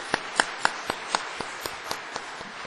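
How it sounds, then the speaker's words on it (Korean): Church congregation applauding the teachers on Teachers' Sunday: about ten evenly spaced, moderately loud hand claps in a steady rhythm, fading slightly toward the end, with no talk over them. "우리 한번 교사들 한번 박수 한번 하겠습니다."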